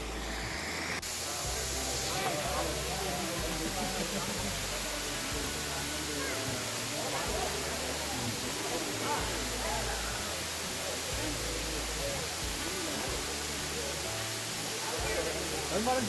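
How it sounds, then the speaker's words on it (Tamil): A small waterfall at Kailasakona or Thottikona pouring water, a dense, continuous rushing roar that stays loud and steady throughout, with a faint voice now and then beneath it. "ஒரு சின்ன ஃபால்ஸ் மாதிரி இருக்குது"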